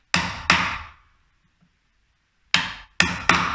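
Steel hammer striking a chisel to cut a door latch plate recess in a wooden door edge: two sharp blows, a pause, then three more, close and loud with no talking.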